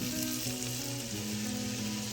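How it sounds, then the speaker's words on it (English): Butter frying in a pan crackles and sizzles loudly and continuously, with small pops running through the steady hiss and no voices. "our butter has started frying, popping, all that goodness"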